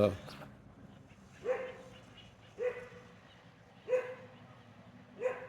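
A dog gives five single barks spaced about a second apart, each a short, sharp, fairly close yelp, against a quiet background.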